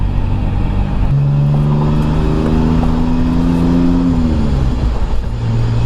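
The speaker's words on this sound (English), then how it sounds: "Now I should probably go for a test drive and see how it feels." A BMW E46 drift car fitted with an SLR Speed super angle kit drones steadily on a test drive, with one loud in-cabin engine tone that rises, holds, then drops as it comes off throttle.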